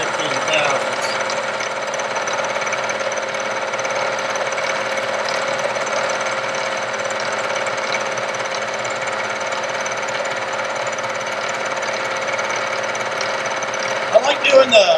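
Milling machine on power feed cutting steel to make a vise stop, a steady, loud grinding whine that runs evenly without a break, with a few sharper knocks close by right at the end.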